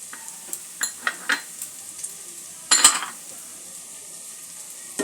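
Poha being stirred in a pan with peanuts, cashews and raisins, a few scattered scraping and clinking strokes of a spoon against the pan over a faint soft sizzle, with one louder clattering burst midway.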